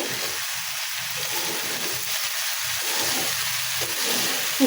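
Vegetables and spices sautéing in a pan, a steady close sizzle with faint rhythmic stirring scrapes and no talk.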